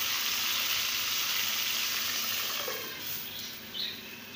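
Chopped tomatoes frying for kaleji masala in a pan over medium flame, a steady bright sizzle that fades slightly and crackles unevenly near the end, with no voices.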